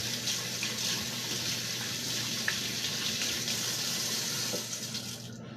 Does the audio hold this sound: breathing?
no